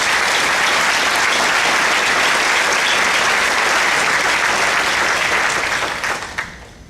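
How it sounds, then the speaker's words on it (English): Sustained applause from the audience at the 2014 Fresno County State of the County Address, loud and dense for about six seconds before thinning and fading out at the end. "Let's give them a round of applause."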